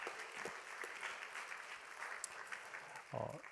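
A church congregation claps together, a dense patter of hands heard from some distance, fairly quiet and continuous.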